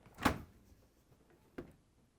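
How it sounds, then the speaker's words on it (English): Left French door of a Whirlpool refrigerator being opened, a soft close thud as the seal releases, followed a moment later by a quieter second knock in a hushed room. "To get to the part, we need to open the left side French door."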